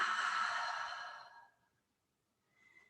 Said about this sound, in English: Deep breath in and out here.